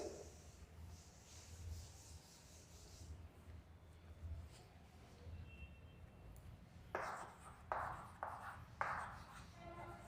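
In a political science classroom, someone wipes writing off a board with a few brisk, scraping rubbing strokes that come close together near the end, after a stretch of quiet room tone.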